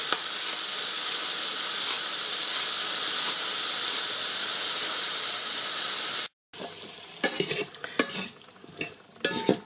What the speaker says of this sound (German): Und die Zucchini-Spaghetti werde ich jetzt dann mit dem Zwiebel und dem Schinken braten.